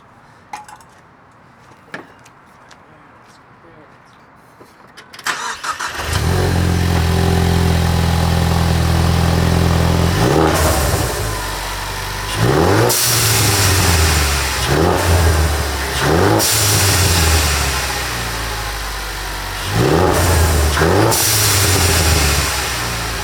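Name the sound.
Ecoboost Mustang engine starting and running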